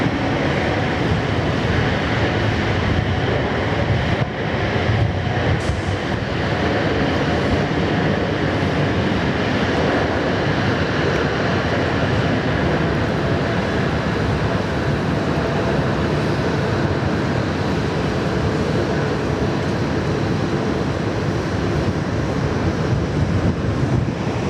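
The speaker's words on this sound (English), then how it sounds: "Heavy takeoff roll, this one." A heavy airliner bound for Houston makes its takeoff roll at Sydney Airport, a sustained, broad jet roar that holds steady and powerful for the whole stretch, heard from a distance with wind across the microphone.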